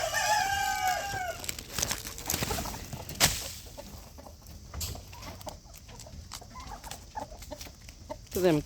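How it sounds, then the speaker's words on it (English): Backyard chickens cluck and call close by while tearing at cauliflower leaves from a home garden, with a sharp crowing-like call near the start and scattered pecking and rustling sounds throughout. "Now the chicken can have a snack."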